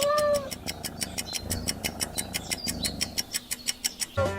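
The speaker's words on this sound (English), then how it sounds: "It's a cat." A cat meows briefly at the start, quickly followed by a steady rhythmic beat of backing music that carries on through the rest.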